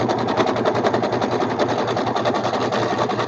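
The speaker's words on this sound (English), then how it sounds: "So I'm going to sew the top of my table first, and then I'll sew the legs." A sewing machine stitches the tabletop piece of a fabric sewing-room model in a steady, rapid mechanical rattle, loud and close, running continuously with no talk.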